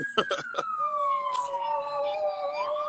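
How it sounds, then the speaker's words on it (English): A wailing ambulance siren sweeps slowly downward, loud and close, following a few short sharp knocks at the start. "sorry, but I'm by an ambulance"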